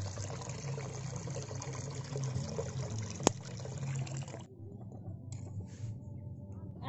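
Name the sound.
water being poured into a pot for spaghetti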